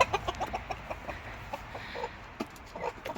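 Black chickens, including Brahmas, cluck in a farm setting with soft, irregular calls and clucks scattered throughout, fairly close but quiet, with no talking.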